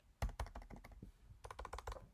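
Keys pressed on a computer keyboard during an R programming lesson, a quick run of close, crisp clicks in two bursts with a short pause between.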